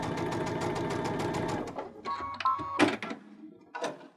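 A Baby Lock Unity 22 sewing machine runs fast and rhythmic while sewing pintucks on solid quilting-weight fabric, then slows to a stop with several mechanical clunks and clicks and one short final burst.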